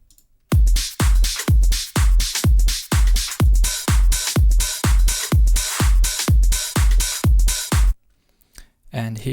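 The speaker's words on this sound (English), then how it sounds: "on the drop I also have this kick" A punchy electronic kick drum hits the drop of a dance track, thumping about eighteen evenly spaced, booming beats in a steady four-on-the-floor pulse before it suddenly stops.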